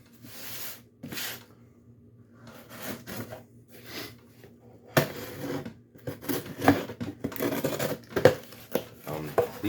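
Rasping, scratchy cutting and crinkling as scissors slice open the plastic package of seed germination mats, with irregular bursts of rustling and rubbing up close.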